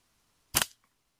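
A single sharp gunshot, loud and close, with a short decay and silence before and after, outdoors in the woods.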